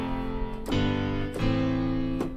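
Sustained inverted triad chords on a keyboard, three chord changes each struck and held at a steady pace, played alone with no talking.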